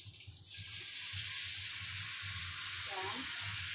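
Tofu frying in a pan with chili bean sauce sizzles loudly and steadily, with a burst of hissing and bubbling as water is poured in, plus some low clattering of stirring.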